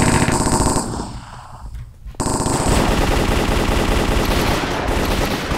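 Rapid automatic gunfire in the Minecraft MineStrike shooter game: loud, dense bursts of shots that thin out briefly near the two-second mark, then resume as continuous close fire.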